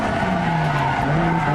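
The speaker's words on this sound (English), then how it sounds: "just a flick of the steering wheel and a jab at the accelerator is enough to get the tail out" Video game car tires squeal continuously in a long, steady drifting skid while an engine drones underneath, loud and close.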